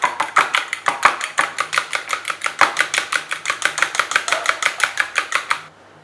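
Three eggs beaten briskly in a bowl for an egg podimas sandwich, a fast steady run of about thirty sharp whisking clicks that stops near the end, close and alone.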